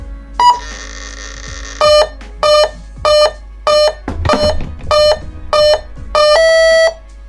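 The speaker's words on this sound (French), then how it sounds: "le variateur bip bien 8 fois que là, je suis en 8S" RC speed controller beeping after connecting an 8S battery setup, a longer tone followed by eight evenly spaced electronic beeps, clear over a low hum.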